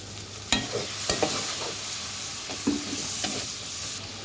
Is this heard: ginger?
yes